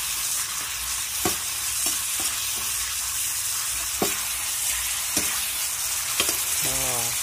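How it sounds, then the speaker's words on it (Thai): Israeli stevia shoots sizzle in a pan with soy sauce, a steady close frying hiss broken by repeated clicking stirs of a spatula. "ผัดเข้าไปนะครับ"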